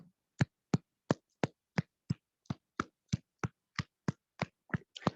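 Hand clapping as a fitness exercise, about fourteen sharp, dry claps in an even, moderately quick rhythm, close and isolated with no voices.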